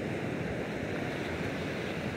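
Strong Santa Ana wind blowing offshore at Rosarito Beach, Mexico, a steady loud roar and buffeting mixed with surf, constant for the whole stretch with no voices.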